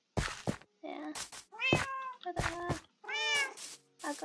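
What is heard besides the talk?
cats meowing in the video game Minecraft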